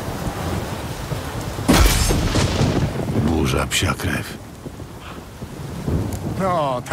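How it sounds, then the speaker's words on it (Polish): A game thunderstorm in The Witcher 3 brings a close, heavy thunderclap followed by rumbling rolls over a steady wash of rain, with a voice briefly speaking near the end. "No, taka ładna burza to już mi się od dawna nie udała."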